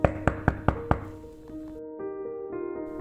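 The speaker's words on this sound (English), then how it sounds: "heard a knock on their apartment door" Five quick, sharp knocks rap on an apartment door in a steady rhythm, close and distinct, followed by a soft musical tone that fades in afterward.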